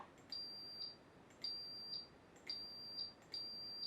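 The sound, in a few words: buzzer playing note D8 for half a second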